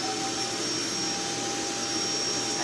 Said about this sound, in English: I do love that vacuum, but it is noisy.